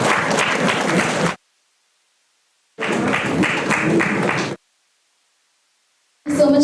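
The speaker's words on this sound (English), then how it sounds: "Can we please have a round of applause?" Audience applause at an international academic conference comes in separate bursts of dense clapping, each a second or two long, broken by stretches of dead silence.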